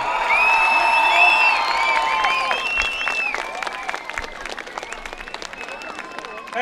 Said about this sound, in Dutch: Dames en heren, geef nog een hartelijk applaus.